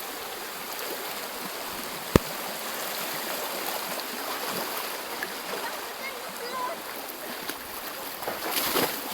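Strong river water rushes steadily nearby, a continuous broadband roar with occasional sharp knocks and splashes, and people speak briefly over the flow.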